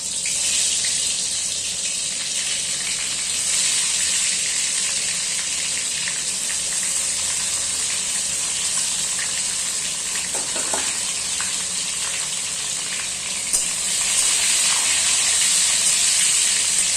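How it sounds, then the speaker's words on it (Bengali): Pointed gourd and potato fry in mustard oil in a pan on a gas stove, a steady loud hiss of sizzling oil running throughout with little variation and no talk. "এবার পটল আর আলুটাকে তেলে ভেজে নেব।"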